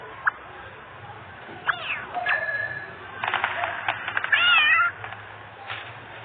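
A cat meows several times, clear and fairly close, with short rising and falling calls spread across the clip against a quiet background.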